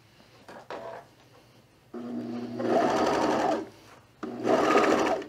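A sewing machine stitches a seam on a fleece pullover collar, running in two sustained close bursts after a few short starts and pauses, with no voices.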